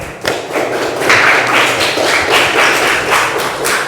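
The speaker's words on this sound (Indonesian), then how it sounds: "Tepuk tangan kelompok 1." A classroom group claps together after a student presentation, a dense, lively round of applause that stays steady and fairly loud for about four seconds with no talking over it.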